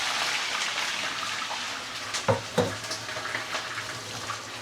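Barramundi dropping into oil heated to smoking point, a steady loud hiss of frying throughout with a couple of sharper splashy bursts as the fish goes in, close up.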